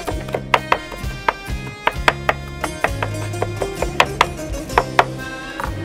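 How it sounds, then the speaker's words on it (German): A knife rapidly chopping fresh herbs, walnuts and salt together on a board for a Greek skordalia garlic dip, sharp repeated knocks in an uneven quick rhythm, close and loud with no talking. "Kräuter, Walnüsse, alles zusammen. So, ein bisschen Salz noch dazu, dann Salz zusammenhacken."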